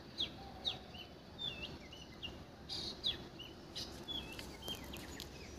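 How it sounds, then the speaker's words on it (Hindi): Small birds chirp and whistle at sunrise in Kulgam, Kashmir, their short bright calls repeating every second or so over a quiet outdoor background, fairly faint and with no talking. "पक्षियों की आवाज़ें सुनो कितनी सुंदर आ रही"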